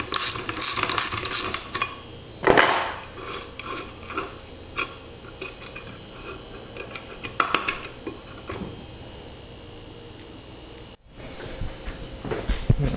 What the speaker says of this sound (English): good old 9/16 socket